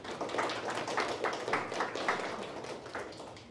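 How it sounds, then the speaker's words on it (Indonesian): Audience applause in a hall at a formal event following a monologue performance, a steady wash of many hands clapping for several seconds at moderate distance. "Boleh berikan tepuk tangan sekali lagi."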